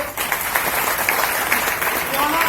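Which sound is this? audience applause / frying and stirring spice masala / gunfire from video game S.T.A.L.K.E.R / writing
audience applause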